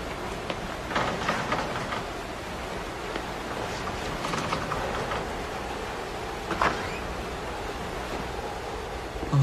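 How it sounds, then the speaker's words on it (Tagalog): Heavy rain during a storm, a dense, steady hiss that continues throughout with a few surges and no voices. "Ay, naku, lakas talaga ng ulan."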